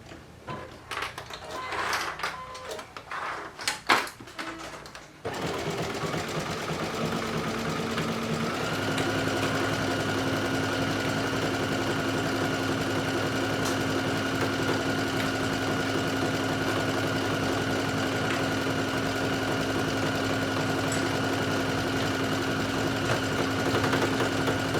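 Sewing machine stitching over the strap of a sunflower swim top: after a few clicks and fabric handling, a steady rapid mechanical whirr with a fast regular needle beat runs continuously for about twenty seconds, close and moderately loud.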